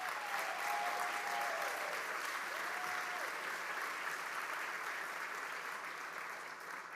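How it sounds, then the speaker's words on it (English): Audience applause at a leadership awards celebration for a charity, fairly faint but continuous crowd clapping in a large room, steady for several seconds with a brief voice early on. "one more round of applause for Mercer Street Friends"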